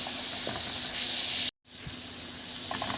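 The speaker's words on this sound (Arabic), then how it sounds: "البصل خد تشويحتين معايا" Chopped onion sizzles and hisses steadily in a hot pan while being stirred for chicken and mushroom piccata. The frying noise cuts out for a moment, then resumes at the same close, even level.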